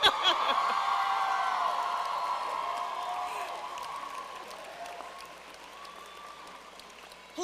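A large crowd at the Barnard College 2013 commencement claps and cheers for the graduates, sustained applause with a few whoops that slowly fades over several seconds.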